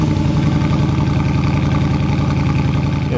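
A Jaguar car engine with resonators fitted to the exhaust rumbles steadily up close, a deep throbbing exhaust note with a raspy edge, idling loudly without pause.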